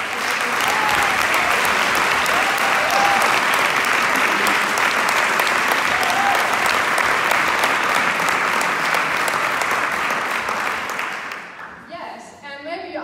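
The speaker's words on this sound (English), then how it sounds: "so give a really warm applause for the whole team." An audience gives warm, sustained applause for an event team at a female founders night, dense clapping filling about eleven seconds before dying away into a brief voice and room noise.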